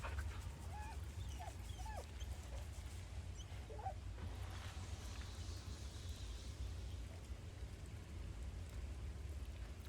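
Pet dog Scratch in a video game whimpers in a few soft, high whines over a steady low background hum and faint rain-like noise, with no talking.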